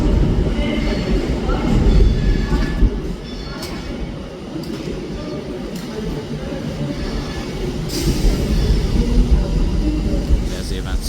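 An Avanti West Coast train rumbles through Manchester Piccadilly station with a continuous close roar of wheels and engine and brief higher squeals. Station noise and faint talk surround it.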